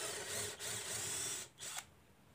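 A mini 12V cordless drill bores a 10 mm hole into dense ironwood, a steady loud motor whine with brief dips in load and a short stall near the end, no talking.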